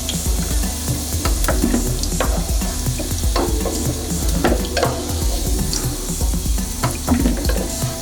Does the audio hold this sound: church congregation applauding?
no